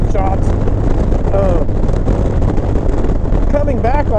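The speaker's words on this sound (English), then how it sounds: "But right into a headwind." Strong headwind buffeting the microphone on a bike ride, a loud continuous low roar and rumble with bits of voice breaking through briefly.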